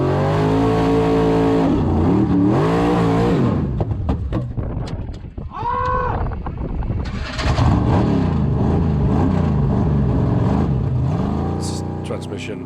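A Formula Offroad race car's engine, with a failing transmission, revs hard and loud over a big jump at an Icelandic off-road race, its pitch rising and falling in repeated surges, with a brief dip in the middle.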